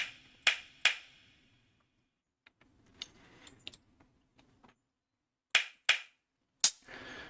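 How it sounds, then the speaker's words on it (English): Clap samples auditioned in a Modalics Beat Scholar drum machine: sharp, dry, isolated clap hits in small pairs and singles with near silence between, some fainter, softer hits in the middle. "Clap, not that many to choose from."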